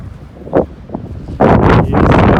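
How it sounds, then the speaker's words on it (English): Strong wind gusts roar across an open golf course beside a lifted Ford F350 out mudding, two sharp buffets giving way to sustained loud rushing wind noise on the microphone. "windy too"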